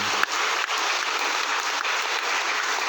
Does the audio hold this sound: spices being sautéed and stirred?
no